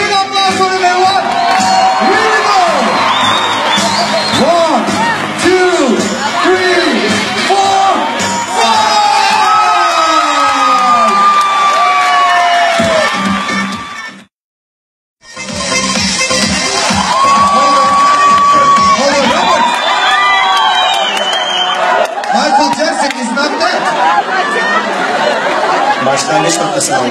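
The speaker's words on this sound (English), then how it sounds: "Let's hear a big applause for him, everyone." A large crowd at a funeral gathering cheers, whoops and shouts loudly and continuously with children's voices and chatter mixed in, briefly cutting out midway before the cheering resumes at full volume.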